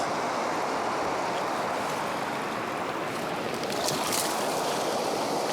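Steady, dense rushing water roars without a break, close and loud, recorded at the base of a waterfall on a brook trout stream.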